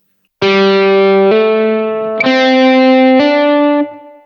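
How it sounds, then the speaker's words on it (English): Distorted electric guitar plays a short phrase of notes, some sounded by fretting without a fresh pick attack, each ringing into the next, loud and close. "We're going to learn a technique called a hammer-on, which sounds like this."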